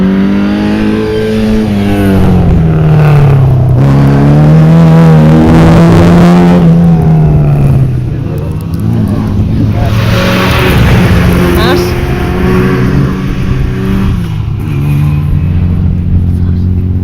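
A rally car engine revs and drones at a special stage of the 2011 Meath rally, with a steady pitch that rises and falls, under continuous crowd talk and outdoor noise.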